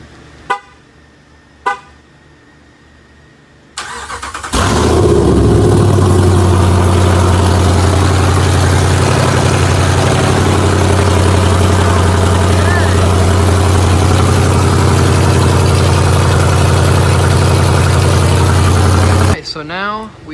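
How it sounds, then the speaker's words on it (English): Ram truck V8 with open long-tube headers and no exhaust cranks, fires up and idles loud and raw with a steady throbbing rumble, after a couple of brief clicks, then shuts off. "it would not be a long tube header install without starting it open headers"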